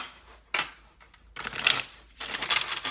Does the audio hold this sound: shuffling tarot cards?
yes